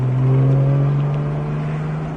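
A Porsche GT3 on a racing circuit powers out of a corner, its engine a loud steady drone with a strong low tone that holds continuously, close and alone.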